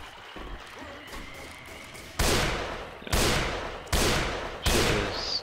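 Four loud semi-automatic sniper rifle shots ring out in Left 4 Dead, each a sharp crack with a decaying tail, spaced roughly a second apart after a quieter stretch of game ambience.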